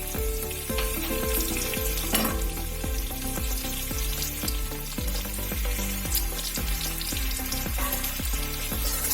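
Chopped tomato fries with onion in a pan as a steady loud sizzle over a fast, regular rhythmic clatter, without a pause for the whole stretch.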